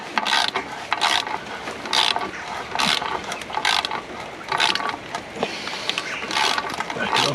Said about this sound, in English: use a 12mm Allen key to go in there onto the ratchet